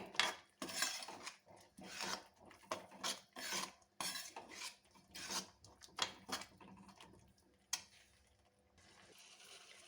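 A spoon stirs pizza pasta sauce mixed with tomato ketchup in a metal pan, a steady run of repeated scraping and clinking strokes close by, fading to a quieter rub near the end.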